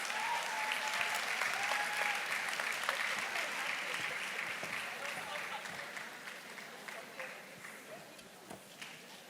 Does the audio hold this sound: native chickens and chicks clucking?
no